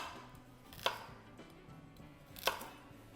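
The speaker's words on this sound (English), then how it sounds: "I'm just gonna give them a rough chop" A knife roughly chops carrots on a cutting board, two distinct sharp thuds spaced well apart with softer taps between, close and moderately quiet.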